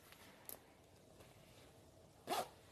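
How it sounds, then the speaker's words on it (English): The zipper of a size-large front-zip sports bra is tugged, giving a tiny rasp early on, then a quiet pause, then a short, sharper zip near the end over faint room noise. "If I could get the zipper to zip."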